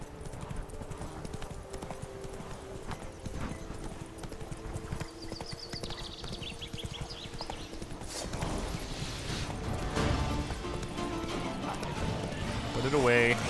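Hooves of Roach, Geralt's horse in The Witcher 3: Blood and Wine, clip-clopping in a steady trot that grows louder and busier toward the end, with faint game sounds around it.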